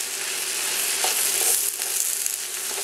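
A big pot of spinach for Greek spanakorizo wilts and gets stirred, giving a steady close-up sizzle with a faint scrape of the stirring, with no voices.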